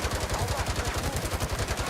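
Rapid gunfire in the video game Gangstar Mirage City strikes a shield, a fast even burst of loud shots pounding throughout.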